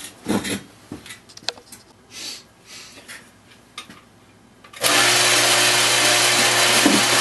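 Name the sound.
drilling holes in steel blade blanks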